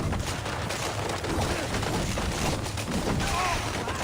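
Enemy gunfire aimed at the player in Assassin's Creed Valhalla, a dense, continuous spray of shots and impacts filling the scene under game ambience and faint music, with a voice partly audible.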